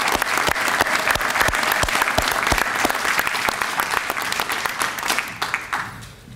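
Steady, loud audience clapping at an EMS academy graduation ceremony, a dense crowd applause that holds for several seconds before thinning out at the end.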